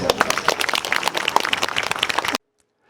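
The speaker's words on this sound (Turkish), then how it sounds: "Sizi ben yürekten alkışlıyorum hepinizi." Crowd applause at an iftar dinner held in a neighborhood on World Romani Day, a lively burst of many hands clapping with uneven sharp claps, lasting a couple of seconds before cutting off abruptly into silence.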